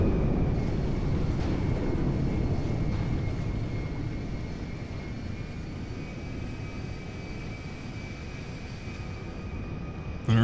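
A C-17A Globemaster III transport aircraft taxis in the video game GTA 5, a steady low jet engine roar with a constant whining tone, continuous and fairly loud throughout without talk.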